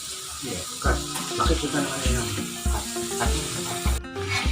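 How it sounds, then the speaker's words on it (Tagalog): Butter melting and being stirred in a pan for palabok sauce, soft sizzling under a steady series of scraping, knocking stirs, fairly close and quiet. "Lagay po natin yung 1/4 butter. Haluin po."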